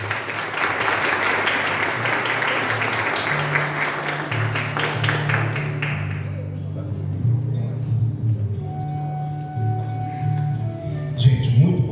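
An audience applauds to welcome a speaker at a business awards evening, dense steady clapping for about six seconds that fades out, followed by a voice talking.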